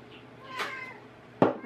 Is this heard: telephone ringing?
no